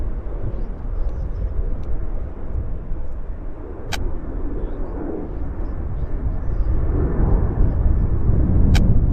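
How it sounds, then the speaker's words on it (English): Heavy jet airplanes at Vancouver International Airport produce a steady, loud, broad roar that swells slightly toward the end, with a couple of faint brief clicks over the continuous rumble. "A lot of airplanes buzzing about."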